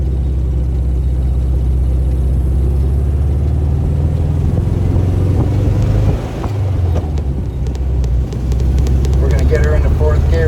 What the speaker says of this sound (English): We're going to get her into fourth gear here.